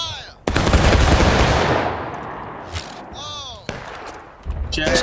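Musket volley in the Civil War video game War of Rights, a loud ragged burst of near-simultaneous shots that rolls on for about two seconds, then scattered later shots amid whistling and battle noise.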